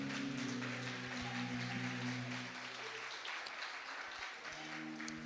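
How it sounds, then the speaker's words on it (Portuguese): A church congregation claps during a worship meeting, a fairly soft, sustained wash of applause over held instrumental tones that fade partway through. "Você pode dar um aplauso a Ele?"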